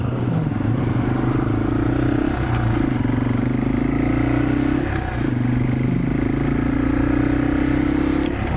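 A motorcycle engine runs steadily nearby, its low rumble rising and falling slightly with revs, continuous throughout.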